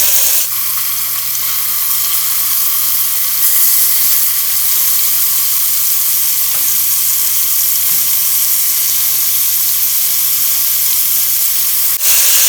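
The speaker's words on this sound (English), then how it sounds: "And now I'm going to add my pork in. And I'm going to let that cook on one side for about 3 minutes." Pork searing in a hot pan gives a loud, steady sizzle and hiss that runs unbroken for about twelve seconds, with a few faint clicks and no talking.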